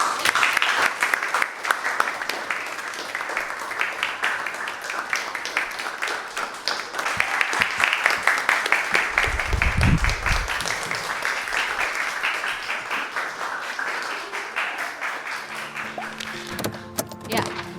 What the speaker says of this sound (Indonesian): berikan tepuk tangan pada teman yang maju dan Mbak Puan yang sudah menanggapi.